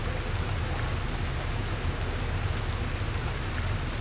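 Rain in the video game BioShock 2 falls as a steady, dense hiss that fills the scene without pause or other sounds.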